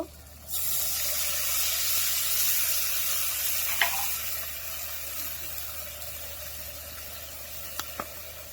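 Water is poured into a pan of frying spices, bursting into a loud, sustained hiss and sizzle that settles into a steady bubbling fry, with a couple of faint utensil clicks near the end.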